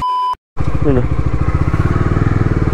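A motorcycle engine starts up after a short beep and a moment of silence, then settles into a loud, close, steady pulsing rumble as the ride gets under way.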